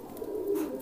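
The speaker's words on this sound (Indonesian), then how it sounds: "Ini merpati baru nih." A single low, soft pigeon coo rolling for under a second, close and fairly quiet.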